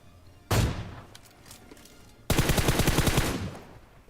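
Gunfire from an AWM sniper rifle and other weapons in the battle royale game BGMI: a sharp single shot, then after a pause a loud rapid burst of repeated shots lasting over a second, close and punchy.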